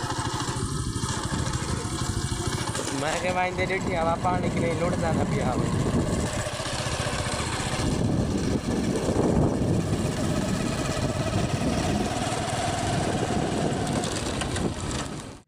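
A motorcycle engine runs steadily near a village farm field, a continuous rough putter throughout, with someone talking over it.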